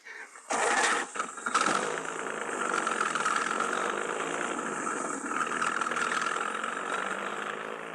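A car engine cranks and catches after a couple of short bursts, then settles into a loud, steady running drone as it pulls away.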